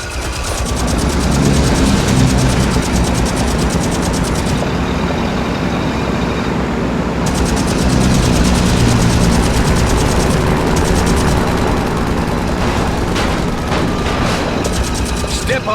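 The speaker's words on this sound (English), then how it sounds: "Listen, I hear airplanes." Aircraft drone overhead in The Saboteur, a dense, steady engine roar holding for the whole stretch alongside vehicle rumble and game effects, loud and continuous.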